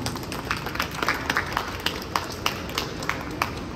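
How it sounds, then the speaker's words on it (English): Audience applause at a Miss International Hawaii pageant at Ala Moana Center, with scattered individual claps popping out, steady and moderately loud for several seconds. "Let's give her a big round of applause."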